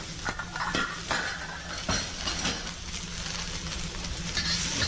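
Noodles tossed into an oiled wok and stirred, with repeated scraping clinks of a utensil against metal over a soft steady sizzle, close and fairly quiet.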